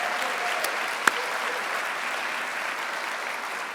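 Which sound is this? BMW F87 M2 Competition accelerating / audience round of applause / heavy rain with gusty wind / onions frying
audience round of applause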